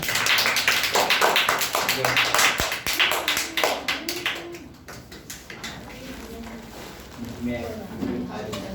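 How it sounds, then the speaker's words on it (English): Students applauding in a classroom at a storytelling competition, a burst of many hands clapping that thins into scattered claps, with voices talking over the tail end. "Clap for Arya"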